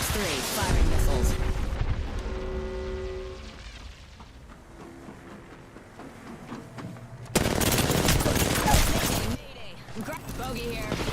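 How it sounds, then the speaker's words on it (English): Missiles firing in a space combat video game, bursts of rapid loud launches and blasts in two main volleys with a lull between, while a voice talks over the action. "Box 3, firing missiles"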